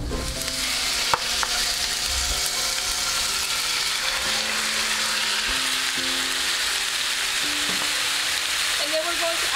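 Chicken fries in about a tablespoon of oil in a hot frying pan, a steady loud sizzle throughout with occasional light clicks of a utensil.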